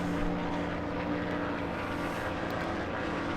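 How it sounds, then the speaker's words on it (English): A damaged race car engine in NASCAR Thunder 2003 at Chicagoland, a steady droning hum with a slightly deeper, throatier tone, running continuously at moderate level. "but the engine is definitely damaged"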